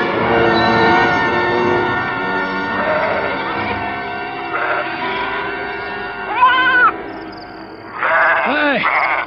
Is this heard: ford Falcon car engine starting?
no